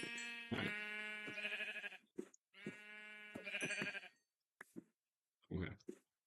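Several loud, wavering sheep bleats in a video game, close up, with short gaps between calls and a few softer clicks and bleats near the end.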